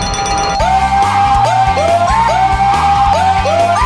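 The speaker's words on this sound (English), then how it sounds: "Bring out the funny screaming Asian man" A funny screaming man sound effect from the video game Castlevania: The Dracula X Chronicles repeats loudly in rising-and-falling yells, layered over steady game music.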